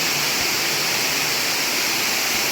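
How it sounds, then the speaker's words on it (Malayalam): Loud, continuous roar of a waterfall, a dense steady rush of water that fills everything without pause. "വെള്ളത്തിൻ്റെ ഒച്ച കാരണം എത്രമാത്രം കേൾക്കുന്നുണ്ടെന്നറിയില്ല"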